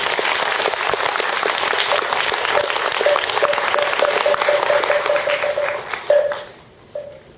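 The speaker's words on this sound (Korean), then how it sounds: "박수로 환영해 주세요" Sustained applause from an audience welcoming a Buddhist monk lecturer onto the stage at a Korean meditation concert, a dense steady clatter of many hands with a faint tone running beneath, tapering off near the end.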